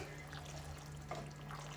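Boiling water poured over macaroni in a pan, a faint, brief trickle and splash over a low steady hum, quiet and close, with no speech.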